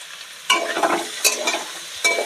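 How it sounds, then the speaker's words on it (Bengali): Cauliflower fries in a pan with turmeric and salt, with sizzling frying underneath and several distinct stirring scrapes at close range, no talking. "এবার লবণ হলুদ দিয়ে আমি আর কিছুক্ষণ ভেজে নেব"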